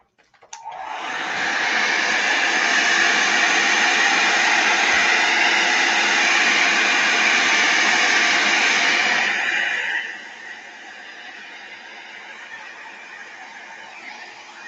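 A hair dryer blows steadily and loudly up close to dry paint in a journal, then drops to a lower, quieter setting for the last few seconds.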